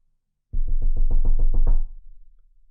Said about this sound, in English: There was a hammering on the door.